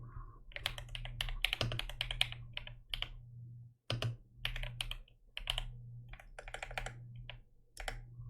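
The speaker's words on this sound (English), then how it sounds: "Unintentional typing ASMR." Fast, irregular clatter of typing on a computer keyboard, close and crisp key taps in bursts with brief pauses, a low steady hum underneath.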